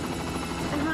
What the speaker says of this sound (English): he can only hear the chopper hovering above him